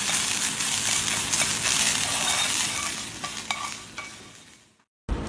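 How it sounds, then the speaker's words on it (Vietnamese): Minced meat stir-fried in a pan, a loud dense sizzle with scraping stirs and a few clinks that tapers off and cuts briefly to silence before the sizzle resumes. "anh chị bằm cho nhuyễn và xào cho chín giùm em"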